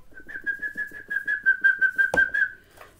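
A person whistles one steady, sustained high note for about two and a half seconds, close and fairly loud, with a soft rhythmic tapping underneath and a brief knock near the end.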